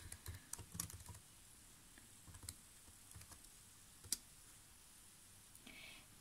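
Faint typing on a computer keyboard, scattered key clicks in irregular bursts with a busier flurry at the start and one sharper click later, over a quiet room hiss.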